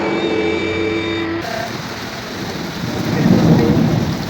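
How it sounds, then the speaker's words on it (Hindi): Rain falls steadily at Fort Munro with a low rumble of thunder rising toward the end, a continuous wash of rain noise outdoors, a brief tone sounding early on. "बारिश का समा फोर्ट मिनरू"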